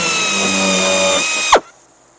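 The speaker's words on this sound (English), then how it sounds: "I'll go through and drill them to a number 30." Power drill boring holes into aircraft auxiliary wing fuel tank seams, running steadily for about a second and a half, then winding down abruptly into quiet; loud and close, no talking.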